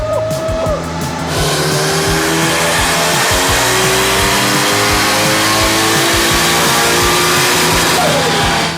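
Tuned Toyota Sera engine revving hard on a dyno during a boosted power run, loud and close, with rising and falling harmonic sweeps, a high whine and continuous roar throughout.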